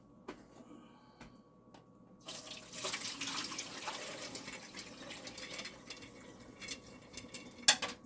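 Beans being rinsed under a running kitchen tap in a small strainer, water starting after a few quiet clicks and then flowing steadily with splashing, fairly faint, no speech.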